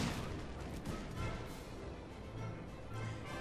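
Dense, continuous battlefield gunfire from Napoleon: Total War, with musket volleys and booming blasts rolling together into a steady, loud roar of distant and nearby shots with no clear pauses.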